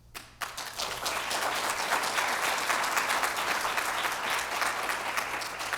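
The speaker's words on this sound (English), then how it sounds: "Let's give our panelists another round of applause" A conference audience at a national HIV/AIDS strategy plenary session applauds its panelists, with a brief quiet start before dense, steady clapping builds and holds for several seconds.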